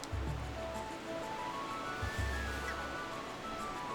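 Rushing waterfall in The Legend of Zelda: Twilight Princess HD, drenching Link as he passes beneath it: a steady, loud broadband roar of water that runs the whole time, with low game tones and faint tonal notes underneath.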